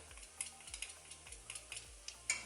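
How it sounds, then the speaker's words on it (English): Food stirred in a pan, light scraping and clinking of a utensil at irregular intervals, close and quiet over a faint sizzle and background music, with no talking. "give that a stir into there"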